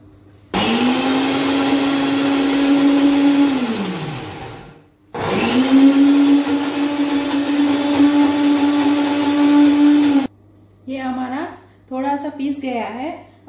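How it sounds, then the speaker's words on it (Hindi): A mixer grinder whirs loudly through two long runs blending hummus ingredients with salt, each starting abruptly and easing off as the motor winds down, and then a person talks. "नमक कितना सब मिलाकर हमको ग्राइंडर में मिक्स कर देना है"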